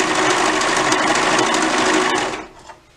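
A sewing machine stitches over a dress yoke seam, a loud, close, continuous whirring buzz for about two seconds before it stops abruptly, followed by a soft clunk and quiet.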